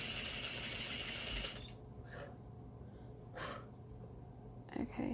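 A sewing machine stitches a French seam on a slant pocket in a fast, whirring run, then stops and leaves quiet handling noises and a few short soft rustles and breaths.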